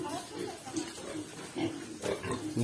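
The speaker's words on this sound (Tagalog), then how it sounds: "Daming baboy, oh." Pigs grunt and oink repeatedly on a mango farm in Batangas, close and fairly loud, with a voice talking over them.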